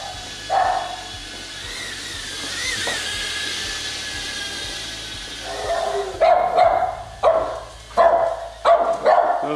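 Several dogs bark loudly in repeated bursts while chasing a small Holy Stone HS210 toy drone down an indoor hallway, with a faint whine of drone rotors in the first half before the close, energetic barking takes over.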